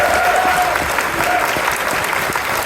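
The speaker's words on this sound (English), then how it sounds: "round of applause for the associate directors and the rest of the convention staff" Convention crowd at an opening ceremony applauding the staff, a dense, sustained roar of clapping with faint voices mixed in, filling the space throughout.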